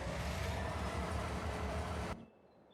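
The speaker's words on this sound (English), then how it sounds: "Train's showing up right there." Train in Farming Simulator 25 on the Hutan Pantai map, a loud, dense rumble with rolling rail noise that stops abruptly, leaving a quiet background.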